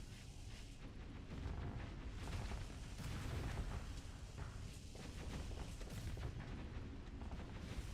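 Starsector space combat carries a dense, continuous rumble of heavy booming shotgun fire, loud and unbroken through the stretch with no talk over it.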